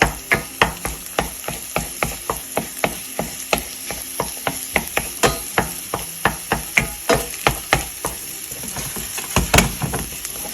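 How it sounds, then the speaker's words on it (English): Butter-cooked scrambled eggs pushed around a pan with a spoon, giving a steady run of sharp, close scraping taps roughly every half second over a soft background sizzle, with no talking. "I'm just sort of moving it about after I've cut it with the spoon"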